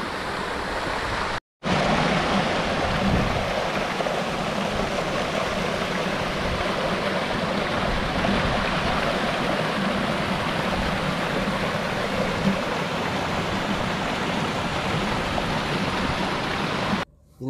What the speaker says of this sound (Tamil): முன்ப அவ்வளோ தண்ணி போயிட்டே இருக்குது.